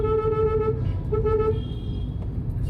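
Busy road traffic on a car drive from Ghazipur to Varanasi, with two long, loud horn blasts over a constant rumble of engines and tyres close by.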